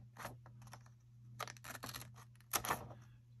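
Scissors snipping slots, a few short crisp cuts in two quick clusters over a low steady hum, close and fairly quiet with no talk.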